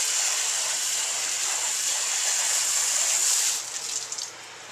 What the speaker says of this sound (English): I'm just going to water it in.